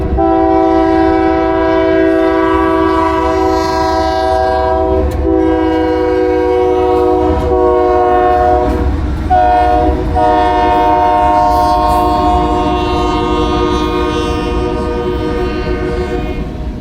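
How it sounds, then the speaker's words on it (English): A train passing in Corsicana, Texas rumbles past with a long, loud multi-tone horn blaring continuously, its chord dipping briefly, over the steady roll of the wheels. "oh, there's a train right there."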